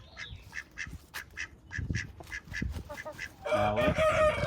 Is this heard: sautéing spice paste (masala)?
no